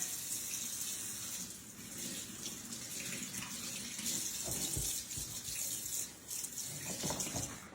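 Water runs from a kitchen sink faucet while flour is rinsed off hands, a steady hiss and splash that swells and dips with brief hand movements through the stream, fairly quiet and with no voices.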